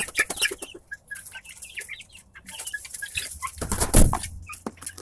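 A rooster and a flock of newly arrived chicks cluck in busy, overlapping bursts, close by, with a flurry of flapping wings and scuffling near the end.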